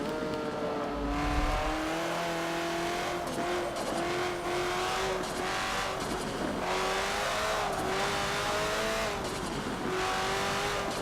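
A 500-horsepower Nissan Bluebird race car in Forza Motorsport 7, its engine droning loudly and steadily with rising and falling pitch as it shifts through gears, a brief low rumble near the start.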